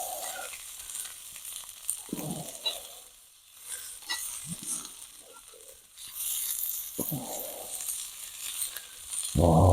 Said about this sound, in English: Oh, don't you just love the sound of that sizzle?